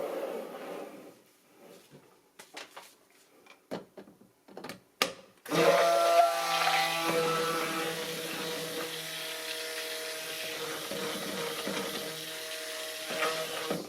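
A stick blender whirs steadily through white cold process eucalyptus soap batter. The close, continuous motor hum follows a few light taps and knocks.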